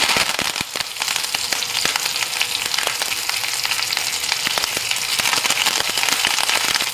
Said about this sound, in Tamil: சீரகம் நல்லா பொரிஞ்சதுக்கப்புறம் கருவேப்பிலை ஆட் பண்ணிக்கிறேன்.